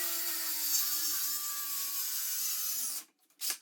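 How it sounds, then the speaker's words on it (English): A circular saw fitted with a brand new blade cuts wood while building a miter saw and routing station, a steady loud whine with a grinding bite that runs for about three seconds, then stops abruptly, leaving brief quiet and a short rustle. "To make sure I had clean cuts, I put a brand new blade on my circle saw."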